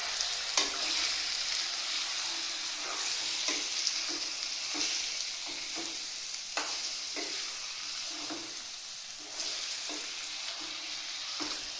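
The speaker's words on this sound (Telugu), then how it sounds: "అందులో మనం కడిగి పెట్టుకున్న చికెన్ని వేసుకుంటున్నాం. వేసుకొని బాగా మిక్స్ చేయండి" Washed chicken pieces with turmeric frying and being mixed in a pan, a continuous sizzle with repeated scraping and clacking stirs at an uneven pace, close and alone without speech.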